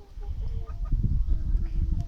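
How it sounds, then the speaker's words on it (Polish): Old hens on a small poultry farm give a few soft, scattered clucks over low background rumble, close but faint. "To są głównie już starsze kury."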